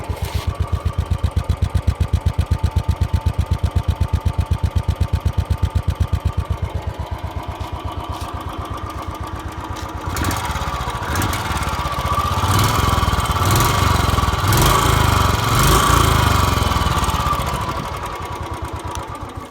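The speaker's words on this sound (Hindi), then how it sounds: "सिंपल सी किक लगानी है। स्टार्ट हो गई हमारी बाइक।" A Royal Enfield Bullet 350 motorcycle idles after a kick start, a loud rapid thumping pulse close by that settles, then swells into a rougher, revving drone.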